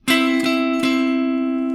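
Three quick picked attacks on a guitar major-third double stop, ringing bright and close, then sustaining alone and slowly fading.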